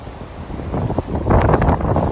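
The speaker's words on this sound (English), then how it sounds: "but it sure is windy out." Strong wind gusting outdoors near a house in Woodside, a steady roaring rush that swells louder in the second half, buffeting the microphone.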